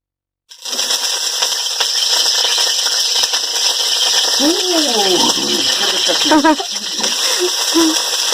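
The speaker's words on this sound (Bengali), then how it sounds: "পটলটা থেকে তেলটা ছিটকাচ্ছে" Pointed gourd fries in hot oil in a kadai, and the oil spatters. A loud, continuous hiss and crackle begins abruptly and stays close throughout, with a voice briefly speaking over it midway.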